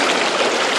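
Steady, loud rushing of a river pouring through a gold-prospecting sluice box, a continuous close wash of water with no breaks and no voices.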